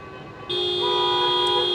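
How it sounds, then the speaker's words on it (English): Car horns honk loudly at an election night car rally, with one sustained, blaring horn that joins the others partway through and holds steady over the background crowd noise. "And Ellen, as you can hear, we are at a car rally here"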